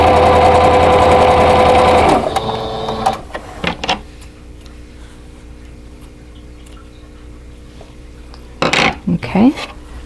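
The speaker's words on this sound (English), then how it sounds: "So we're sewing the medium to the 2 lights." A sewing machine runs steadily for about two seconds, stitching medium and light fabric pieces into a quilt block, then stops; quieter handling noises and a brief burst of activity follow.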